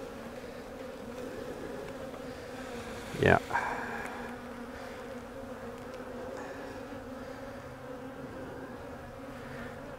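Small surviving bee swarm on a hive frame in cold weather, a faint steady buzz throughout with one brief close knock and a short spoken word.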